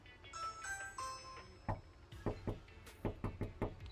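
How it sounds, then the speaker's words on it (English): A doorbell chime plays a short melody on a house's front door, then a series of sharp knocks on the door follows, about seven quick raps in two small groups, close and clear. "Couple knocks, and then you do the leaning method."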